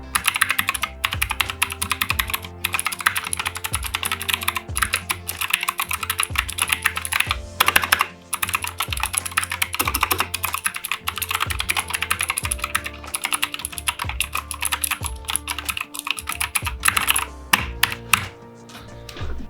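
Rapid typing on a GK61 mechanical RGB 60% gaming keyboard, close and loud, with fast irregular clacky keystrokes and occasional brief pauses, heard alone.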